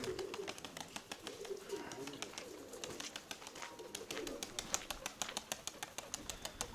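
Pigeons cooing in a pigeon loft, soft repeated low coos from several birds, mixed with rapid light tapping and rustling clicks throughout, fairly quiet and close.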